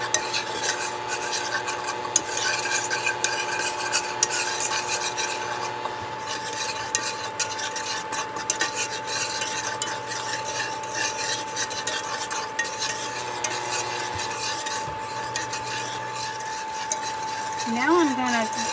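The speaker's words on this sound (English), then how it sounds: "we are going to whisk in 2 tablespoons of flour, and we're just going to kind of let that go for about a minute" A whisk stirs flour into sauce in a pan as a steady, continuous scraping swish, with a low sizzle and a voice talking over it throughout.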